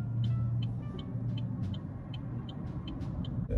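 Road traffic passes in a steady low rumble of car engines, moderately close and unbroken, with light ticking sounds above it and no talking.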